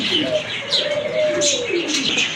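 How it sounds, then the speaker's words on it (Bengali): Pigeons at a pigeon dealer's coo and warble steadily, close by and fairly loud, with faint chirps and some rustling mixed in. "দেখেন কবুতর দেখেন আরেক জোড়া কবুতর"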